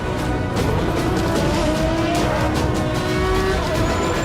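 Cars in the racing video game Forza Horizon 3 give a dense, continuous roar of engines, with tire squeal and skidding woven through and no pause throughout.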